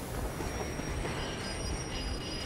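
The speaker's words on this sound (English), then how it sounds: "Oh, here comes our train." Train wheels squeal and screech steadily as a train arrives and brakes on the rails in the video game Metro Exodus, a dense, continuous grinding roar with no voices.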